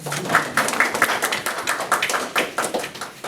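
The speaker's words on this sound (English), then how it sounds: "Get a round of applause." Audience clapping after a colleague is handed the floor at a business team presentation, a modest round of applause from a small group with quick irregular claps lasting several seconds, no talk over it.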